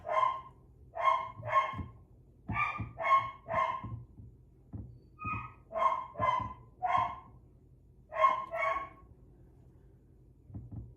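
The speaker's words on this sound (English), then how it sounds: "He's barking because I just gave them all their breakfast." Puppy barking in a kennel at breakfast time in Alaska, repeated sharp barks in rhythmic bursts over about eleven seconds, moderately close against a quiet low hum.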